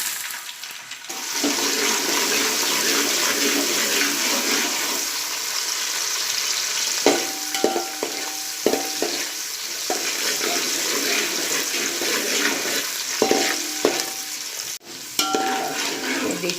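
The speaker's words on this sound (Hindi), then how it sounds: "देखिए चारोली भी तलकर हो गई है" Charoli nuts fry steadily in hot oil for sheer khurma, a continuous close hiss and sizzle, with a few faint clinks of a utensil against the pan partway through.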